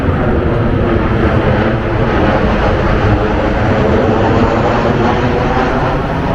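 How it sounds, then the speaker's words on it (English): A plane on the Stansted flight path in rural Essex passes overhead as a loud, continuous broadband roar that fills the whole stretch without a break. "Let's see if I can see that plane."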